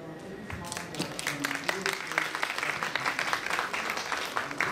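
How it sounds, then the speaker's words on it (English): Audience at a coffee lecture applauding the incoming presenter, a room full of scattered clapping that stays fairly even, with some voices mingling underneath. "Your applause, ladies and gentlemen."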